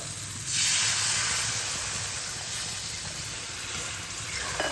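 Water poured into a pan of well-fried spice paste for a Bengali rohu fish curry sets off a loud, steady steaming hiss that rises quickly and slowly eases off.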